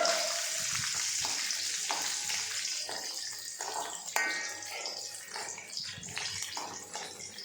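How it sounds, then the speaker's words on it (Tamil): Raisins frying in ghee, a continuous close sizzle with soft crackles and occasional stirring scrapes, fairly loud and steady throughout. "இப்போ வந்து நம்ம நெய்யில் முந்திரி பருப்பும் திராட்சையும் வறுத்து போடலாம்"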